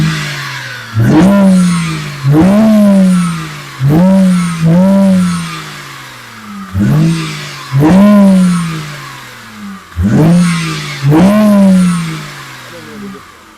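A BMW 335i engine with a loud intake revs hard in repeated bursts, about eight loud pulls with a roaring intake rising and falling, short pauses between each.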